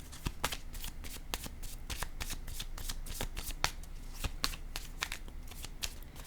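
Tarot cards shuffled by hand, a rapid run of crisp riffling clicks and flutters close up, fairly quiet and without voices.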